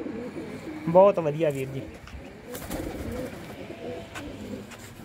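A pigeon in a loft gives a single short throaty coo near the start, close by, while someone talks over the quiet background.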